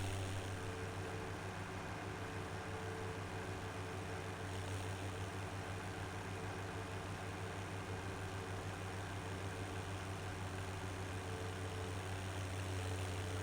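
Steady low tractor engine drone in Farming Simulator 17 with the Seasons and More Realistic mods and a gearbox mod, a constant idling hum throughout with no talk.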